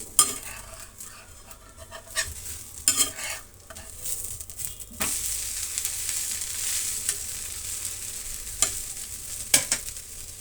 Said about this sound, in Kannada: ಈಗ ನಾವು ದೋಸೆನ ತಿರುಗಿಸೋಣ.